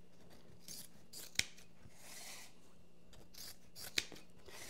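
Scissors snip pieces of material while a wreath is being made, two sharp close cuts spaced a few seconds apart over quiet rustling.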